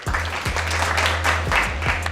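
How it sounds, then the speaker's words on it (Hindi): Audience applause greeting a fitness expert before a HIIT cardio workout session, a steady wash of clapping lasting about two seconds with faint sharp thumps underneath. "जोरदार तालियों के साथ स्वागत कीजिए हमारे आज के एक्सपर्ट का, मिस्टर विकी तुली सर।"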